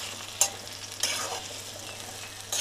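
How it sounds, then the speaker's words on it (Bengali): Potatoes frying in oil with turmeric and salt, a soft sizzle broken by a few sharp scraping stirs of a utensil against the pan, close and fairly quiet with no voices. "এই তেলেতেই আমি এখন ভেজে নিব আলুগুলো"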